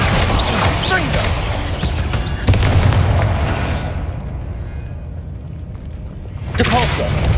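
Confringo blasting-spell explosions in the Hogwarts Legacy video game: a loud booming burst hits, rumbles and decays, then a second blast follows a few seconds later amid crackling impacts, with a voice speaking over the action.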